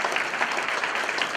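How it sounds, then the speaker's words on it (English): Audience at a Hellenic American genealogy conference applauding, a dense, even burst of many hands clapping close and fairly loud for the whole moment, with no talking over it. "I want to give them a round of applause."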